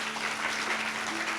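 Church congregation applauding during a Sunday worship service, a steady dense wash of many hands clapping that fills the whole moment without a break.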